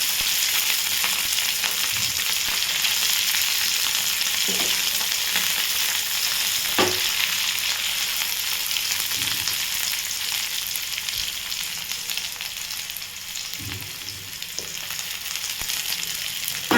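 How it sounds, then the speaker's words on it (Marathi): Cashew pieces sauté in a pan for matar paneer, a steady close frying sizzle with occasional faint scrapes and taps of stirring, no voices. "काजूचे तुकडे घेतलेले आहेत ते देखील घालून घेतले इथे तुकडा काजू वापरलेला आहे तुम्ही अख्खे होल काजू वापरले तरी चालेल ते देखील परतून घ्यायचे"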